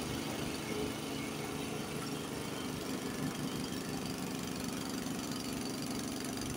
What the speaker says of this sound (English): It's definitely bogging down a little bit.